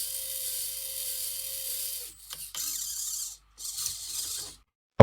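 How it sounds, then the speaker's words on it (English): A block-stacking robot arm driven by motors whirs in steady mechanical bursts with short pauses between movements, ending in a sharp click. "let's immediately try moving the arm to the block"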